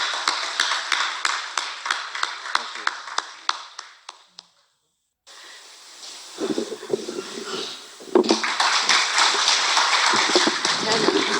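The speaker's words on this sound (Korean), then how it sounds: "예, 박수로." A church congregation claps in a steady rhythm, then breaks off. After a pause with some talking, fuller, denser applause rises and carries on to the end.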